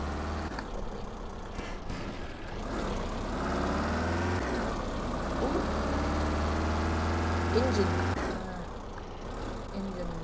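A Ford Transit van engine in Garry's Mod drones steadily at a low, rough idle and rev, close and continuous, with a brief exclamation from a voice.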